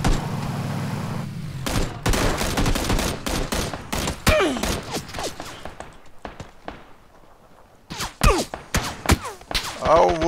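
Rapid bursts of gunfire in PlayerUnknown's Battlegrounds crackle and pop in dense volleys, loud and close, with a brief lull before more shots ring out.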